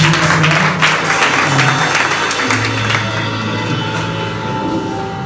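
A church congregation applauding during a worship service, dense sustained clapping from many people in a reverberant hall, loud and steady, fading slightly toward the end.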